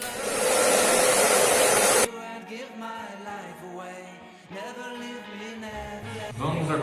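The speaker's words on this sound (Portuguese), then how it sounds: "E agora eu vou passar novamente o secador para demorar cada vez menos a secar" A hair dryer blows steadily and loudly for about two seconds while drying layers of a paper mask, then cuts off abruptly, leaving quieter background sound.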